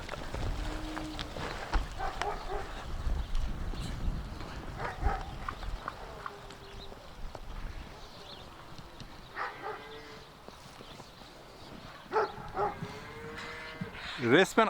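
Jersey cows running and playing in snow, with repeated moos and lowing calls rising over a busy outdoor bed of hoof thuds and movement, fairly close, with a person's brief laughter and voice nearby.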